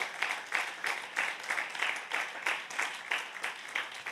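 A church congregation claps in a steady, rhythmic beat, roughly three claps per second, moderately loud and slightly distant, with no talking over it.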